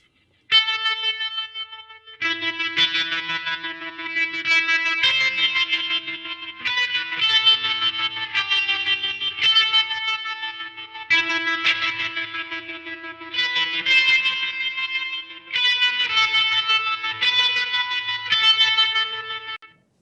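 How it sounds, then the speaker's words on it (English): Electric guitar riff played through a delay effect, with repeats noticeably thickening the tone partway through; sustained, loud and continuous with distortion-like texture and chorus-like shimmer, phrases restarting every couple of seconds, no talking. "I'm gonna turn the delay off and I'm gonna put it on halfway through that little guitar pass"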